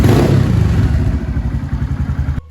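A Honda Grom motorcycle engine, close and loud, revs and then drops to a chugging idle before cutting off abruptly, its throttle slipping off mid-rev.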